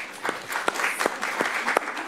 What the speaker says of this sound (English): time for applause, of course.